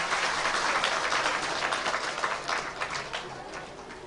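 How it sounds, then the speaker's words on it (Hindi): An audience at a Hindu religious yagya festival claps together in a sustained, fairly even patter that stays moderately loud before gradually thinning toward the end. "पति लोग ताली बजाएं"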